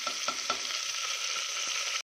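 Ingredients for spicy khichdi sizzle steadily in a pan, and a few quick stirring scrapes at the start fade into an even fry before the sound cuts off.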